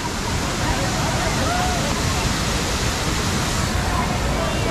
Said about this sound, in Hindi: ये रहा वाटरफॉल।